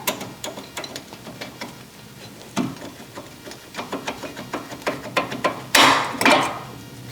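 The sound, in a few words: prying out brake pads with flathead screwdriver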